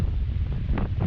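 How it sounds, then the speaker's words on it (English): Steady, gusty wind buffets the microphone at a waterside fishing spot in Port Mansfield, with winds around 12 to 16 miles an hour, making a continuous low roar with no voices. "the winds are going to be maintained today around between 12 and 16 miles an hour"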